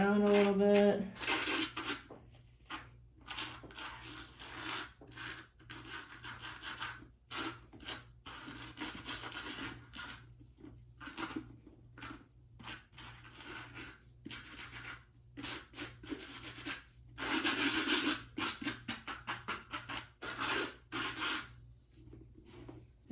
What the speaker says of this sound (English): And now I'm just gonna scrub around the sides very carefully to not hit the leather.